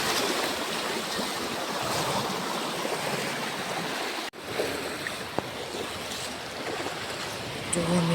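Heavy rainwater gushes and churns loudly down a small slope in a village during a downpour, a continuous broadband rush with a brief dip midway.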